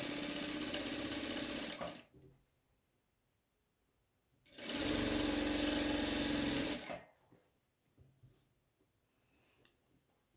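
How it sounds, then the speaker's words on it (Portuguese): Sewing machine stitching a Seminole patchwork rug, running in two steady bursts of about two seconds each, separated by quiet pauses with faint handling sounds. "Vou costurar"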